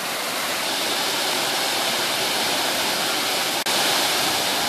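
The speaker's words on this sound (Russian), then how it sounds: "Озера водопадами переливаются одно в другое." Waterfalls pouring between lakes in a park in Israel, a steady, loud, dense rush of falling water with no break, heard close up and alone.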